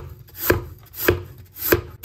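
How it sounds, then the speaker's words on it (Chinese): A knife slices peeled lotus root into thin slabs on a cutting board: three crisp, evenly spaced chops about half a second apart, close and clear with no talking. "削过皮之后先改刀给它切成薄薄的厚片"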